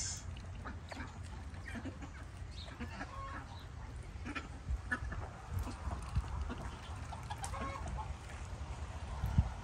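Chickens cluck and murmur steadily at a moderate distance on a farm, with scattered sharper calls over a low outdoor hum.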